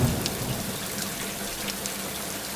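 Heavy rain in a cartoon pours down as a steady, continuous hiss of dense drops with a few louder spatters, and no voices over it.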